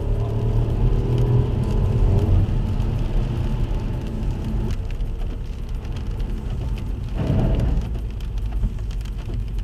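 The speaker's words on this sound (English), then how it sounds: "Puma comes with automatic rain sensing windshield wipers, so you may completely forget about turning them on and off" Steady rain drums on a Ford Puma 1.0 EcoBoost mild hybrid fitted with automatic rain-sensing wipers, a dense close patter over a low rumble that briefly swells twice, with no talking.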